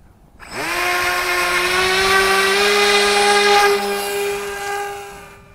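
Flying wing model plane making a pass, a high, tonal motor whine rising in quickly from silence, holding loud and steady, then easing slightly as it moves off.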